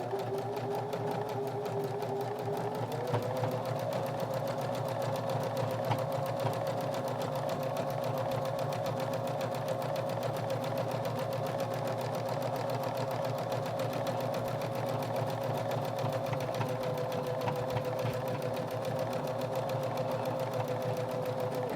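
A sewing machine runs steadily around the edge of a fabric car coaster, a single continuous, even hum of stitching that shifts slightly in pitch early on.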